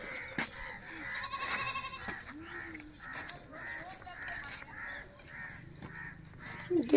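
A goat bleats several times in short wavering calls, mixed with people talking nearby and a voice.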